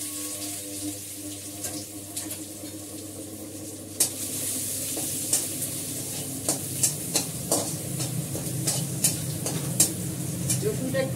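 Garlic and dry red chillies fry in hot oil for a masoor dal tempering with five-spice, giving a steady close sizzle broken by sharp clinks of a spoon stirring the pan.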